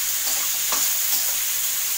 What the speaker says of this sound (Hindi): अब मैं इसमें प्याज डालूंगी। प्याज को लाइट ब्राउन होने तक भूनेंगे।